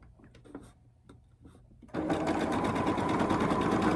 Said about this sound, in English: I am now going to sew down the either side of this drawn line, a 1/4 inch.